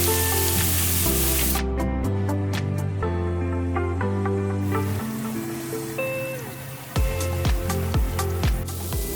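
Spam fries in oil in a wok, a soft steady sizzle running beneath prominent background music with sustained stepped tones.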